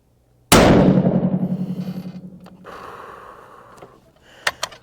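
A 6.5 PRC rifle fires one 153 grain A-Tip load over 55.0 grains of Retumbo powder: a single loud, sharp crack whose echo rolls away over several seconds, with a few faint knocks at the end.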